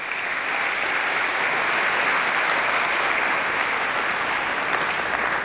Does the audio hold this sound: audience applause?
yes